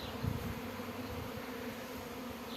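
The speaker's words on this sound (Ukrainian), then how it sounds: "Дивіться, вже тут бджіл стало набагато менше." Honeybees buzzing steadily around beehives, a continuous low drone at moderate volume with no talking.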